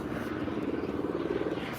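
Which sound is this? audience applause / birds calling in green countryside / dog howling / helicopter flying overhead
helicopter flying overhead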